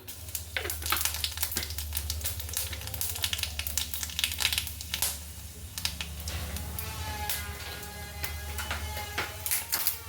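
Panch phoron seeds fry in hot oil in a pan, giving a close, continuous sizzle broken by sharp crackles and pops throughout.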